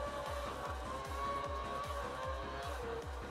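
An F1 2012 race car in a video game, its engine pulsing in rapid repeating downshift-like sweeps under a steady whine with faint tire noise, continuous and moderately quiet, no voices.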